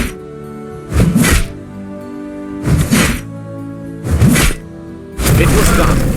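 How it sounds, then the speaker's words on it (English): Altar being smashed apart in the video game Dungeons 2: four loud crashing impact bursts, each about half a second long, arrive at a steady pace over a low sustained game music bed. "The altar of rebirth was in ruins, and Meltisand lay next to it on the floor,"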